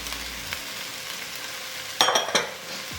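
Sweet kernel corn and black beans sizzle steadily in a pan with softened peppers, with a few sharp scraping stirs of a utensil near the end, close up and without talk.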